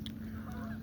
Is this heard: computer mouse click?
no